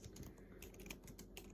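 Quiet, rapid keystrokes on a computer keyboard while text is typed into a terminal text editor, a soft continuous patter of clicks with no voices.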